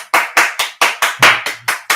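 Hands clap outdoors in tribute to health workers during COVID-19, eight sharp, evenly spaced claps ringing close and loud, each with a short echoing tail.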